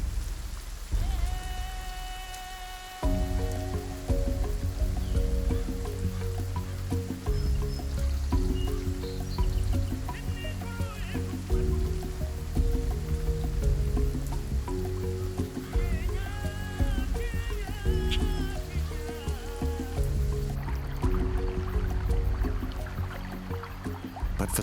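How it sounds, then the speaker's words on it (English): Rain falls on open African plains in a steady, continuous patter with distant rumbles of thunder beneath, heard alongside a dramatic music score. "When the rain arrives, the parched plains come to life"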